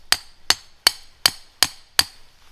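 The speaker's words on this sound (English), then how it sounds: "hammer it in a little bit" A hammer strikes a trap anchor driver, driving it into the ground at an angle. Seven sharp, evenly spaced metallic blows ring out close and loud, about every 0.4 seconds, with no talking.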